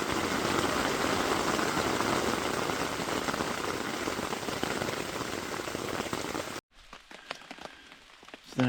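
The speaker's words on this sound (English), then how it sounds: "raining, and I think it's going to do this all night" Steady rain patters on a tarp stretched over a tent at an overnight campsite, a dense continuous hiss of drops that cuts off abruptly near the end, leaving faint scattered taps and a closing thump.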